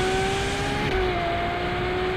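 A Novitec-tuned Ferrari 812 N-Largo with its V12 turned up to 840 horsepower, a loud sustained high-pitched engine wail holding steady with a slight pitch shift midway.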